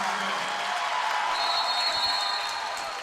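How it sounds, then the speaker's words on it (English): Spectators at a high school boys basketball game clap and cheer after a made free throw, a dense, steady burst of applause that holds at a constant level for about three seconds. "So Wilkinson to shoot 2, the best free throw shooter on the floor for the Cardinals as the crowd has picked up."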